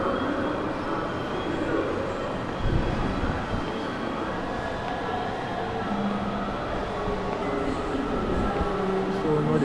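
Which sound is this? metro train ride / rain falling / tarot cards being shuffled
metro train ride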